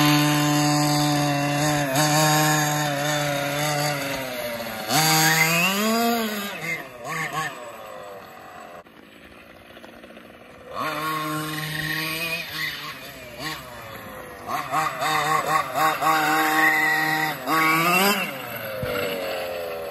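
Losi MTXL RC truck engine running, a buzzy high-revving two-stroke whine rising and falling in repeated throttle bursts with brief idle lulls, close and loud.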